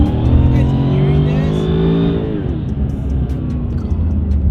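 A Mercedes SLR's engine accelerates while driving, a loud, steady engine drone with rising then falling harmonics throughout, heard from inside the car with a voice over it.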